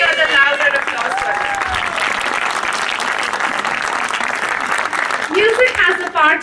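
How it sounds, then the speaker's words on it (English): Audience applause following a children's musical performance in a talent competition round, a dense, loud clapping that fills the whole stretch with some cheering and whistles mixed in. "I could hear the louder applause."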